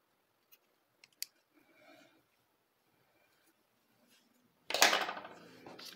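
Scissors snip through yarn while making a crocheted schnauzer amigurumi keychain: a single loud, close cut near the end, after a few faint clicks and quiet handling sounds.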